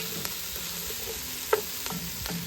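Vegetables sauteing in oil in an outdoor pan for an Irish dish, a steady close sizzle running throughout with a few light clicks of stirring.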